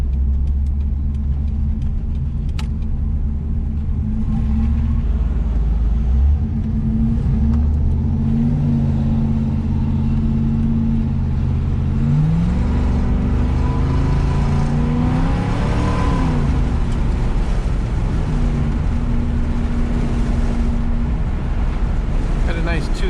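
An '84 Camaro Z28 with a 700 transmission drives and revs, its engine note climbing and dropping through gear changes with a brief surge of shift flare, rumbling steadily beneath wind noise and occasional talk.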